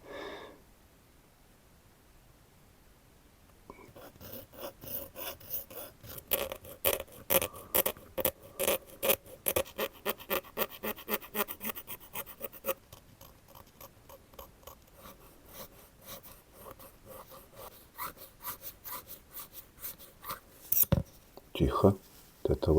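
Needle file scraping a small 1:35 scale Packard Twelve model wing, a fast run of short rhythmic strokes close up and fairly quiet, pausing briefly before a few final strokes.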